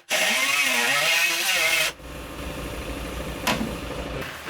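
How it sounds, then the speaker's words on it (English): A cutoff wheel grinds through excess material during a side skirt and mud flap install on a 2008-2014 Subaru WRX, a loud, high, wavering whine for about two seconds, then a lower running hum as it spins down. "I'm going to whack off some excess with a cutoff wheel"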